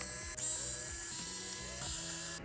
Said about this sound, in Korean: 일단 눈에 보이는 나사들 한번 다 빼볼게요.